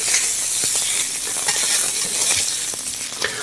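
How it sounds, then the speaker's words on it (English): Seitan browns in a frying pan with a loud, close, continuous sizzle, a dense crackling hiss broken by small pops and stirring scrapes, with no talking. "And while this is browning, we'll just put this in the pan here."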